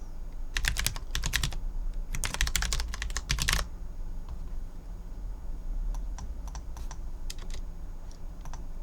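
Rapid typing on a phone or computer keyboard while entering names, dense bursts of close keystrokes early on, then sparser isolated taps trailing off over a steady quiet background.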